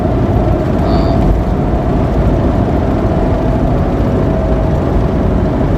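Goodyear Wrangler Authority tires roll along the road at about 75 mph, producing a loud, steady low roar of road noise inside the cabin that stays constant throughout, with no talking.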